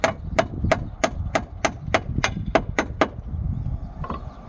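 Eleven sharp, evenly spaced hammer strikes drive 3.5-inch exterior galvanized nails through concrete roof trim tiles, each a ringing crack, followed by a softer knock near the end.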